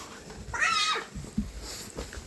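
A pet cat gives one clear, rising-and-falling meow up close. Soft room noise and faint movement follow afterward.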